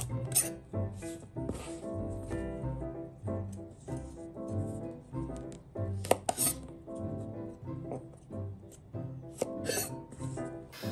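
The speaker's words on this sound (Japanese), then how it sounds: "さっと洗ったら両端を落とします。" A knife taps repeatedly on a cutting board, sharp irregular clicks and clinks close by as the ends of snap peas are trimmed, with small kitchen clatter.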